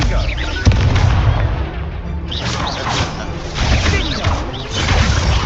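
In Hogwarts Legacy, a Confringo fire spell bursts with whooshing blasts and crashing booms amid combat effects, loud and dense throughout the scene.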